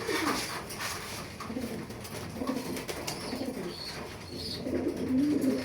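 Racing pigeon chicks, including red checker young, cooing softly in a loft, with low repeated coos and a few faint chirps at close range.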